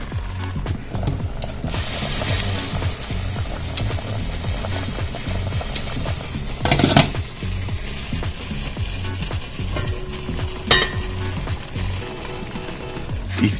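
Jamaican oxtails sizzling and frying in a pot while being stirred, a continuous crackling sizzle with scraping and shuffling as the meat is turned, plus a couple of sharper clanks from the utensil against the pot.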